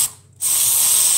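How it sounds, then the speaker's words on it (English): An aerosol can of fly spray hisses in a brief burst, pauses, then sprays again in a continuous close, loud jet. "I'm spraying all day"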